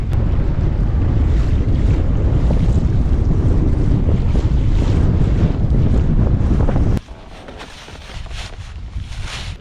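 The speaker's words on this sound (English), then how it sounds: "That wind is building." Strong wind roars across a lake around a small fishing boat, a loud, steady buffeting rush of wind and water that drops sharply to a quieter gusty hiss near the end, with no talk.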